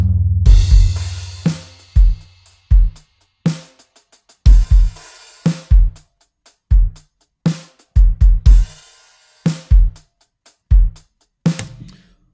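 A sampled drum kit from the DS Drum RCS Essentials library plays a busy groove. Punchy kicks and snares hit hard, and crashy cymbal washes come in close, loud and steady over twelve seconds.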